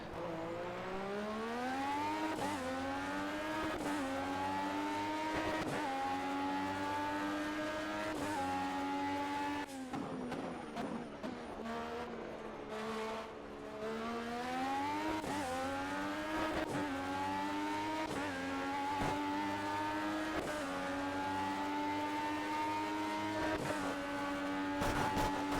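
An LMP1 prototype race car in Project CARS on Xbox One runs a time trial lap, its loud engine note climbing through the revs, dropping sharply at each gear shift and surging again, continuous and close with no talking.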